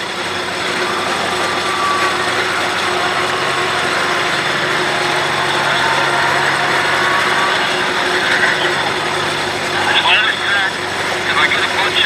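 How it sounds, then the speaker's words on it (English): A naturally aspirated, non-turbocharged pulling tractor engine runs at a county fair tractor pull, a steady loud mechanical drone with some rattling, while an announcer talks over it. "you're going to have to notice that tractor sounds a little different than the first one that ran"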